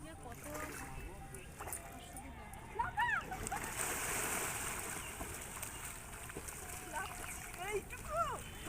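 Water splashes and churns faintly as people swim in the Ganges river, with soft intermittent sloshing under voices talking and calling nearby.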